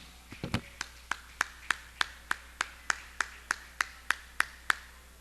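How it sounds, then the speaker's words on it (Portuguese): A church congregation claps in a steady, even rhythm, about three crisp claps per second, fairly quiet and slightly distant, with a few scattered claps at the start and no clear talk. "Então vamos aplaudir ao Senhor"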